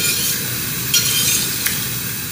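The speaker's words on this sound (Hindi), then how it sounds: "हमने फ्लेम को हाई करना है और इन्हें अच्छी तरह से भून लेना।" Mashed turnips stir-fried in a pan over a high flame, giving a steady close sizzle with light scraping and a couple of soft clinks of the spoon, no voices.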